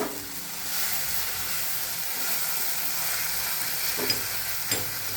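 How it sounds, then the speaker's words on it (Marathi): Vegetables with tomatoes sizzling in a covered pan on the stove, a steady soft frying hiss throughout, with a couple of light knocks as the pan is shaken with the lid on. "परत मी झाकण घेणार आहे आणि हलवून घ्यायची भाजी सगळी"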